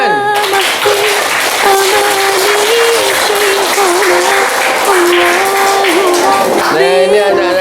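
Schoolchildren at SMPN 3 Bayat, Klaten, applaud during a calligraphy painting project, loud steady clapping running under a strongly pitched voice with music-like tones over the whole stretch.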